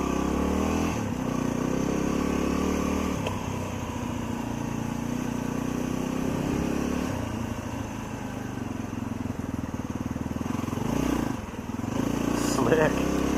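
A motorcycle loaded with strapped-down bags runs steadily as it sets off on a ride in Alaska, its engine droning continuously and loud with slight shifts in pitch, close up and with no voices over it.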